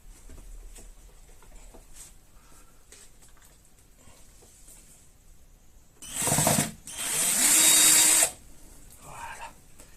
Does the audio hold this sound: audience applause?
no